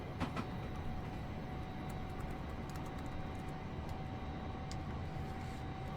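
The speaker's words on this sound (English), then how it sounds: "Love that hum of the train spooling up." Steady, loud hum and rumble of an electric train spooling up at speed in Train Sim World 2021 on the London to Portsmouth route, with a sustained tonal whine and faint light clicks over the continuous drone.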